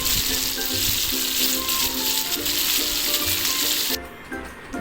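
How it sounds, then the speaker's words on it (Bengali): Chicken popcorn pieces deep-fry in oil with a loud, close, continuous bubbling sizzle that drops suddenly in brightness near the end, with no voices over it. "নিচে পরেরগুলো ভেজে নিচ্ছি।"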